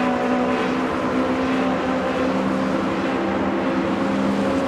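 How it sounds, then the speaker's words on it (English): An LMP2 prototype race car in Le Mans Ultimate, recreating the 24 Hours of Le Mans, drones past with a steady, loud engine note and tonal whine that holds throughout. "Another LMP2 that may have been one of the United Autosports."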